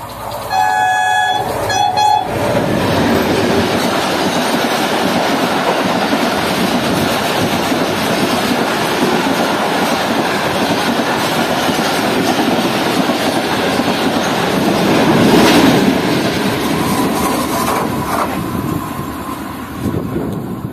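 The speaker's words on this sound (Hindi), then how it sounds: "16 डाउन कराची एक्सप्रेस ने बहुत कमाल की एंट्री मारी थी" The 16 Down Karachi Express pulls into a railway station with a loud, sustained horn blast at the start. Its heavy rumble and wheel clatter then roll steadily through the rest of the passage, close and loud.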